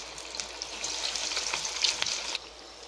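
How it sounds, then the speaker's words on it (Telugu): Spicy chicken cashew pakoda pieces fry in hot oil over medium heat, a steady bright sizzle with crackling pops. It rises briefly near the end before easing off, close and alone with no voices. "మీడియం హీట్ మీద ఫ్రై చేయాలి."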